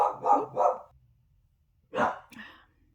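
A dog barks three quick times close by, then after a pause gives two more sharp barks, the last trailing into a short whine.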